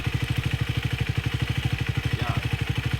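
Speed 400 motorcycle engine revving with a faulty timing chain tensioner, giving a close, steady rapid ticking-clatter pulsing through the engine note.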